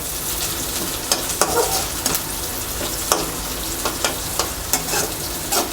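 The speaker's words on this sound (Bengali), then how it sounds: "পেঁয়াজটা ভাজা হয়ে এসেছে" Onions fry in a pan with a constant loud sizzle, punctuated by regular scraping clicks of a spoon stirring them, with no talking.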